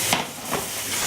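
Diced pork for spicy rissoles fries in a hot pan, a close, steady sizzle with brief swells as the pieces are tossed about.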